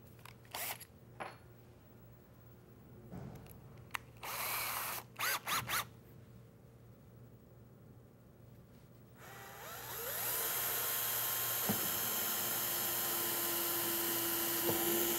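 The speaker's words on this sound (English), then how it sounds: "Now I'm going to drill a hole through the door drawer panel into the drawer itself." After some clicks and handling noises, a power drill whirs up and runs steadily at high speed, its pitch shifting slightly as it bores a pilot hole through a wooden cabinet door drawer panel.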